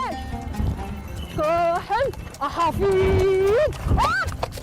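Horses ridden by a women's equestrian team rehearsing for a Fantasia event: hooves clip-clop and horses whinny loudly up close, mixed with people talking.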